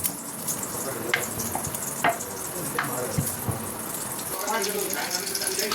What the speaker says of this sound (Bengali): দেখো পরে তেল গরম হয়ে গেছে জিনিসটা ভেজে নিই